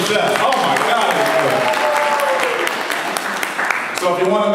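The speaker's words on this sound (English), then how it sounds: "Let's have a round of applause for the chef." Audience applause for a chef at an evening foundation dinner, a dense steady clapping that holds at full strength for the whole stretch, with voices and cheers mixed in throughout.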